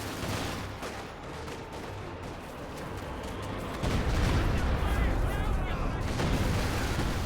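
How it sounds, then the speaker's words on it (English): Heavy siege artillery barrage in the World War II strategy game Company of Heroes 2, a dense roll of booming blasts and crackling gunfire that swells louder partway through and keeps going without a break. "Now the concentration fire operation, which is the heavy siege artillery."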